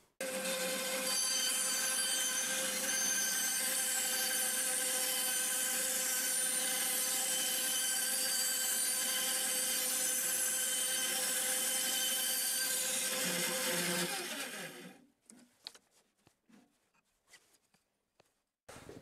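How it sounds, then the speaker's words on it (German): A band saw cuts a circle out of a wooden board in a workshop, a steady loud whine with a rasping cut running for about fifteen seconds before stopping abruptly, then a few faint knocks and handling sounds. "Da werden wir uns jetzt mal einen Kreis sägen"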